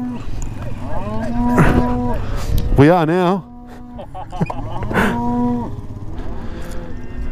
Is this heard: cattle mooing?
yes